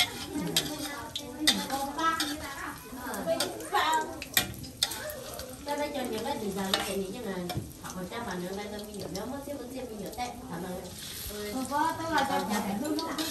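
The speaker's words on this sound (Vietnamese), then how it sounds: "Trứng rán mì tôm" Eggs mixed with instant noodles and onion frying in a pan, a steady soft sizzle with occasional stirring and utensil clinks running under continuous talk.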